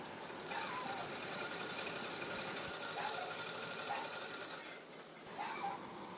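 A sewing machine stitching a baby suit, running in a steady, rapid, close mechanical whir that dips briefly near the end before picking up again.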